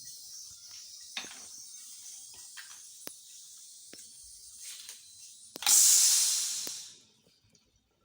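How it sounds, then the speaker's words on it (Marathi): A pressure cooker holding brinjal bhaji is opened after its whistles, releasing a sudden loud burst of steam that hisses for about a second and a half and then tapers off, following a quiet kitchen stretch with a few faint clicks. "आता आपण गॅस बंद करू आणि कुकर उघडून बघू."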